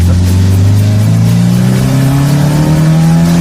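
A 1978 Chevy Monza Spyder fitted with a KTM dirt bike muffler tip as its exhaust revs loud and close, the engine note climbing steadily in pitch throughout with no talking over it.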